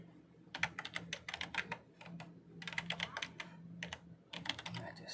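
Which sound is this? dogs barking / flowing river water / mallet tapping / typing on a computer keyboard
typing on a computer keyboard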